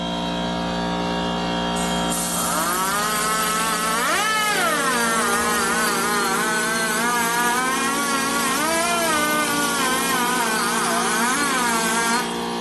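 A valve seat cutter grinds into an aluminum seat on a 2004 Harley-Davidson FLHT Twin Cam touring cylinder head, giving a close, continuous whining scrape with wavering pitch that swells and fades throughout, with no talking.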